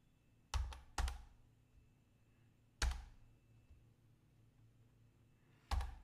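Keys tapped on a computer keyboard while entering a captcha: a few sparse, soft clicks in short bursts separated by pauses, close and quiet.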